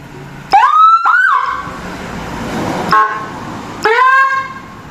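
An emergency response motorcycle's siren gives loud, close short wails and yelps in separate bursts, with a rising electronic tone, brief gaps between blasts and a final rising whoop.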